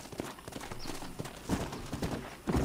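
Horse hooves clip-clop at a steady trot in Red Dead Redemption, close and fairly loud, with a brief whinny in the middle and heavier hoofbeats toward the end.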